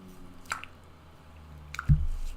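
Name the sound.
tea bags squished in water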